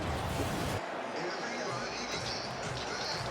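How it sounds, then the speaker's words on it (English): A dense, steady roar of a Dodger Stadium baseball crowd still buzzing after a home run, heard at a distance as a continuous wash of noise beneath a commentator talking. "This crowd is still buzzing here at Dodger Stadium."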